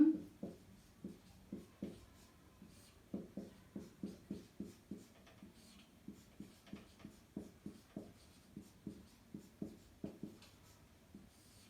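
Pen writing on paper comes through as faint, quick rhythmic scratching strokes, a long run of soft repeated scrapes heard close up in a quiet room.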